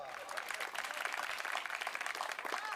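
Audience at a Hindi comedy poetry gathering claps steadily throughout, a dense, even wash of applause filling the room with no voices rising above it.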